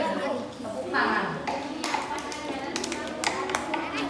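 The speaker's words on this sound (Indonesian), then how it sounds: "Tepuk tangan" A fourth-grade class claps hands together in a classroom, a burst of sharp, scattered claps that swells and fades over a few seconds amid children's voices and talk.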